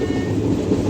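Inside the running Sabari Express passenger train, a steady low rumble and rolling roar of the carriage continues without pause, close and moderately loud, with no clear rhythm of wheel joints.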